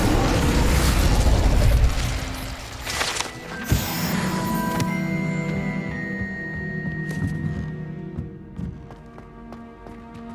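The Incendio fire spell in the video game Hogwarts Legacy starts with a loud, rushing burst of flame and a deep boom. A sharp crack follows, then crackling, whooshing magical effects and ringing tones that slowly fade.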